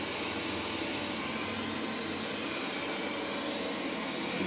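A Wyze robot vacuum cleaner runs indoors with a steady, close whirring motor and suction drone that holds constant throughout, with no talking.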